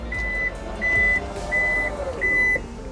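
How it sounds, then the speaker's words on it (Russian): Four evenly spaced electronic beeps, each about half a second long, come from the power tailgate of a 2022 Toyota Land Cruiser 300 VXR 4.0L. A low, steady rumble runs underneath them throughout. "Сервопривод багажника."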